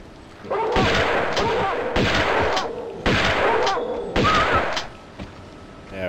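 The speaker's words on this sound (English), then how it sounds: "How about let's pull out the shotgun?" Four heavy, booming shotgun blasts fire at roughly one-second intervals in the Tomb Raider II video game, each a loud burst with a short decaying tail.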